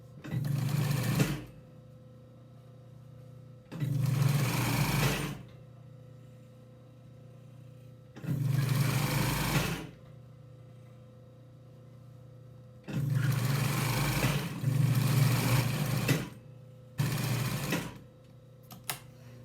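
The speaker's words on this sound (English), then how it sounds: "But first we have to finish the tops with a nice seam just to close it up" A sewing machine stitches a closing seam on a wedge pillow cover for upholstery, running in five loud, steady whirring bursts separated by short quiet pauses.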